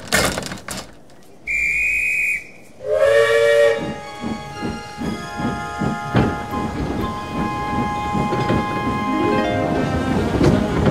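A steam train whistle shrieks in loud bursts, followed by rhythmic chuffing and hissing steam as the engine gets underway.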